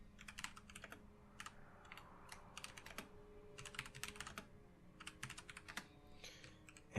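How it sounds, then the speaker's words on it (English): Someone types on a computer keyboard, a quiet, close run of quick key clicks in irregular bursts with short pauses, with no talk. "We're just going to type a bit to Ornis."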